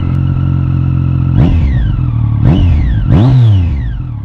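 A nearby Triumph Street Triple 675 motorcycle with a low-slung 3-into-1 exhaust idles loudly, then its exhaust blares through three sharp revs, the last one held longest before easing off.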